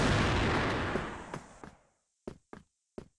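A grenade blast in CrossFire bursts loud and booming, then rolls into a decaying rumble before three short, sharp cracks of distant gunfire follow in near silence.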